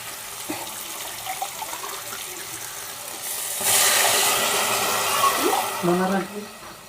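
Two glasses of water are poured onto a glass of rice in a cooking pot for biryani, making a loud gushing splash midway that fades out, with quieter kitchen sounds before and after.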